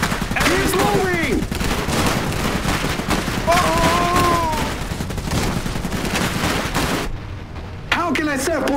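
Gunfire crackles through an Iron Harvest battle between Polania and Rusviet forces, dense bursts under shouted voices, with a brief quiet gap before the shooting resumes.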